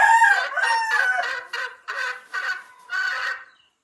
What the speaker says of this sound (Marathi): त्याला कळतच नाही कुठून कोंबडी ओरडती.